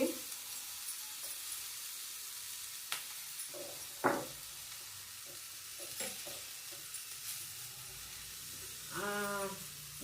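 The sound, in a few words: ingredients roasting in a pan for saar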